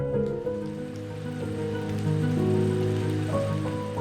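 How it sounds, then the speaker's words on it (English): Heavy rain pouring down in a Western Ghats forest in Goa at dusk, a steady, dense wash of sound that stays loud and unbroken throughout, with no voices. "it started pouring"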